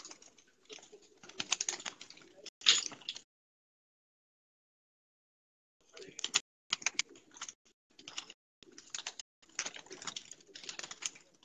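Pigeons at a champion loft in Sialkot give off scratchy fluttering and soft cooing in two busy spells separated by a few seconds of silence, close by and moderately loud.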